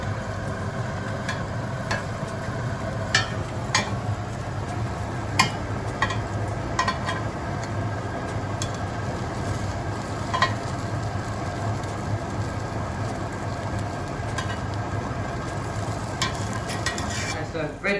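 Bruschetta bread slices char in a hot pan and get flipped over, giving a steady sizzle with scattered light clicks and scrapes from turning the pieces, close and continuous with no talking.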